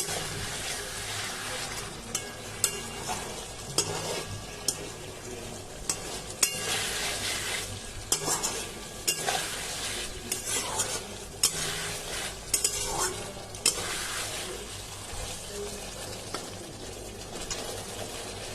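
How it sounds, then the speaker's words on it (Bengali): Pointed gourd sautéing in a pan with mustard, poppy seed, melon seed and yogurt, a steady sizzle with repeated close spoon scrapes and stirring knocks throughout. "পটলগুলো ভেজে তারপরে সর্ষে, পোস্ত, চালমগজ, টক দই সব দিয়ে কষাচ্ছি"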